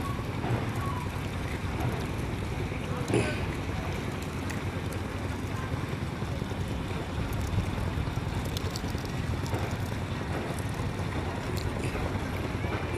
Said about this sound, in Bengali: এই যে আর একটা মাছের ট্রলার চলে আসছে